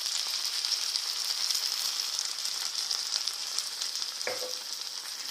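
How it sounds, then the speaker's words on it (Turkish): Menemen sauce hits a hot pan over softened onions and sizzles loudly and steadily up close, a dense continuous frying hiss with one brief knock near the end. "Ve şimdi sosumuzu tavamıza boşaltıyoruz."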